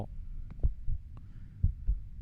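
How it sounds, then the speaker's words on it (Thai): Deep, muffled heartbeat thumps from the horror video game The Lost Fear pulse in a steady double rhythm, low and booming over a quiet humming background, with no talking. "เสียงหัวใจเต้นตึกตัก"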